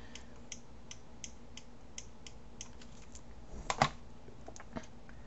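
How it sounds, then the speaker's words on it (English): A computer input device clicks repeatedly while navigating a 3D view with a Space Navigator, producing steady, evenly spaced soft ticks, with a louder burst of quick clicks midway. "I'm sure you can hear that there's a lot of clicking sounding behind it."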